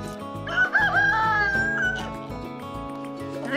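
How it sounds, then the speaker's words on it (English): Chickens call and squawk in a drawn-out, wavering cry, close and fairly loud, over a rhythmic low thumping in the background, around a compost pile. "Chickens are so curious."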